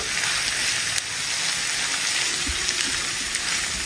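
Onions with salt sizzle steadily in a pan over a medium flame, a constant bright crackling hiss with a few soft stirring knocks, no voices.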